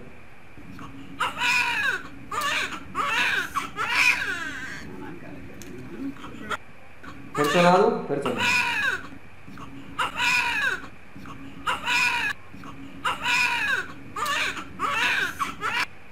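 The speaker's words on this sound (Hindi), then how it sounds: "बच्चा रोता है, मुझे भी पता है रोता है" A newborn baby cries in repeated short wails and sobs played from a recording, with pauses between bursts and a voice speaking briefly around them.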